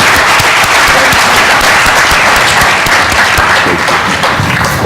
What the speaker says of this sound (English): Please give my panel a round of applause, ladies and gentlemen